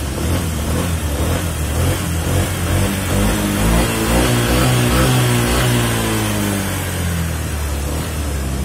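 An electric motor revs as throttle is applied, apparently on a Vahid E10 44-watt or WST 80-watt unit, with a loud steady droning whine and rising harmonic tones sustained throughout.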